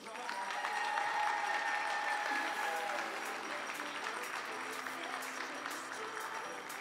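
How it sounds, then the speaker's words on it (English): A crowd applauds steadily for a junior women's 10m air rifle shooter taking eighth place in a final at the European Championships in Győr, Hungary, with dense continuous clapping throughout and a commentator's voice faintly underneath. "please give a round of applause"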